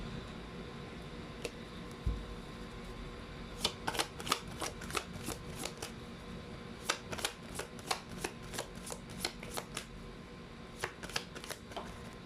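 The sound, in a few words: shuffling fortune reading cards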